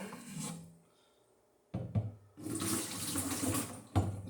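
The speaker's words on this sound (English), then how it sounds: "I'm going to take a little bit of hot water and rinse out my measuring cup." Hot water runs from a tap to rinse out a measuring cup: a short splash, a pause, then two louder bursts of running, splashing water close up.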